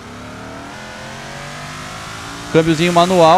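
A Chevette with a manual gearbox in BeamNG.Drive revs its engine in rising, wavering bursts after a steady idle-like drone, loud and close, with someone talking over the start.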